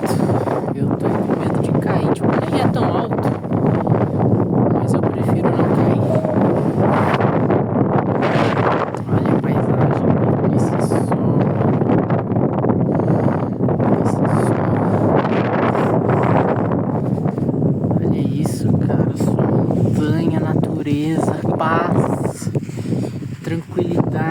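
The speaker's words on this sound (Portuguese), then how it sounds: "e aqui tá ventando muito" Strong wind on a mountain top batters the microphone, producing a loud, continuous roaring rumble that gusts up and down throughout.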